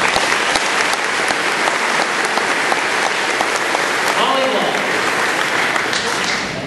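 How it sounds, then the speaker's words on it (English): A large audience at a high school commencement ceremony applauds a sports team, producing loud, sustained, dense clapping that carries through the whole stretch and tapers slightly at the end, with a voice briefly audible underneath. "Give them a round of applause."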